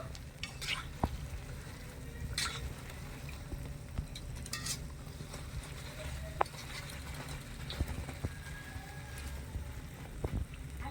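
Fried goja sweets are lifted out of hot oil, with a low bubbling sizzle running underneath while a spoon or slotted ladle clinks and scrapes against the pan at irregular moments, close by.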